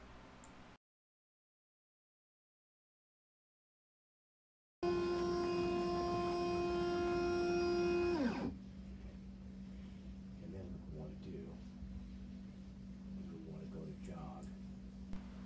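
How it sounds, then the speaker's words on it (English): CNC router gantry traversing to a saved XY position, a loud steady whine of stepper motors that ends abruptly after a few seconds, then a lower hum continues, following a brief silence at the start. "I chose the Quick Actions button to move my router over to my previously saved XY location"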